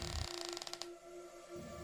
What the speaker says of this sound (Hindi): वो दरवाजा कोई खोल रहा था